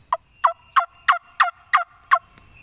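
A wild turkey hen yelps in a sequence of seven evenly spaced, clear, nasal calls at close range in the woods during spring hunting season, with no talk.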